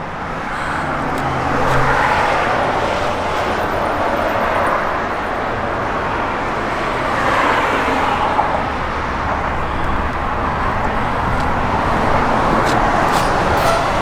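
A 1967 GMC C15 pickup truck with a 650 Edelbrock carburetor driving down the road, a steady, fairly loud engine drone and road rumble that swells and eases slightly over fourteen seconds, with no talking.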